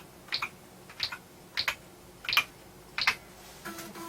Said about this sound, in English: especially since it's a reasonably clicky keyboard as it is